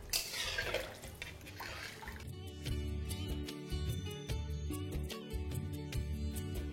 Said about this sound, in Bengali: জলটা দেওয়ার পরে গ্যাসের ফ্লেমটাকে হাই করে এটাকে আপনাদের ভালো করে ফুটিয়ে নিতে হবে।